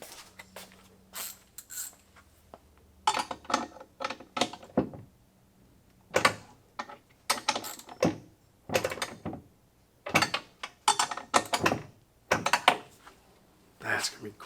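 A socket wrench ratchets to tighten during electrical work, giving short irregular bursts of mechanical clicking with gaps between them, and a person talks at points alongside.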